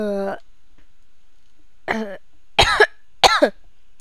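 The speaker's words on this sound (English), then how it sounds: "I've got a bad cough" A person gives two or three short, harsh coughs close to the microphone after a brief spoken word, with near-silence between them.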